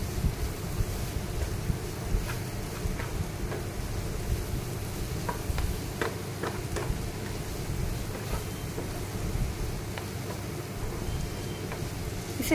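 Brinjal masala with Kashmiri red chilli and coriander powder is stirred in a pan, giving a continuous rough scraping with scattered light taps of the spoon against the metal.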